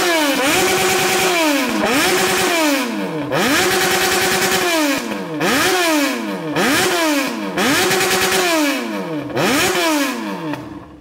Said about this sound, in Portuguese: Acelerar lá em casa desse jeito, o vizinho me mata, mano.